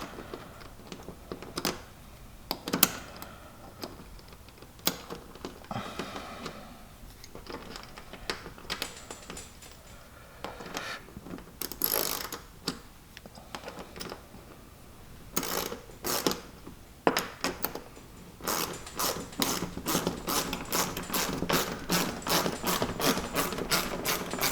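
A ratchet tightens a windshield mount on a 2022 Honda Pioneer 520 side-by-side, sounding as irregular clicks that settle into a fast, even run of ticks near the end, close and fairly loud.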